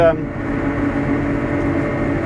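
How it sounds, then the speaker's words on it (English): Air conditioning and heater blowing inside the cab of a CLAAS ARION 470 demo tractor: a steady, close fan hum with a faint low tonal drone, running continuously. "I've just stuck some aircon on and a little bit of warmth because I'm starting to steam up in here"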